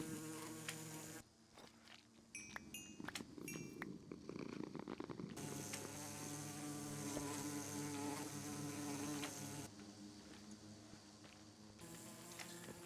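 Bee buzzing in the video game Project Architect 2, a continuous insect drone with steady tonal hum that shifts in pitch and level over several seconds, heard alone without talk.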